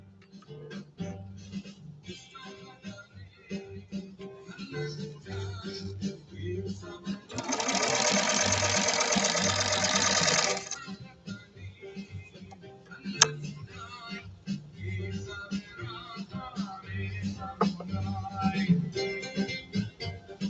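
A 1931 Singer 101-4 sewing machine with a leather needle stitching 100% cotton, a rapid even mechanical whir lasting about three seconds, surrounded by quieter clicks, handling noise and a voice talking before and after.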